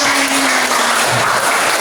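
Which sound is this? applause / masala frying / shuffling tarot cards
applause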